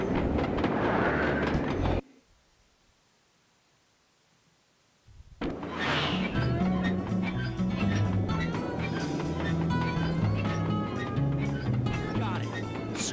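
Rumbling train on rails in the video game Sly 2: Band of Thieves, with a brief silent gap before the rolling noise returns loud and continuous under speaking voices.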